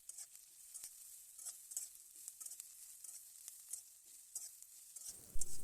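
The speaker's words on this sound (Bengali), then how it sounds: "3-4 মিনিট একটু নাড়িয়ে চাড়িয়ে ভেজে নেব।" Carrot strips are stir-fried for egg chow mein, giving a soft, steady sizzle with repeated scraping and stirring clicks. A louder clatter comes near the end.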